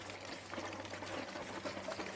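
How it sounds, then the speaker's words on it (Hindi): A Selkon air pressure pump pushes water mixed with air, giving a steady churning, gurgling rush with a low mechanical hum underneath. "अभी एयर प्रेशर पंप होना चालू हो गया।"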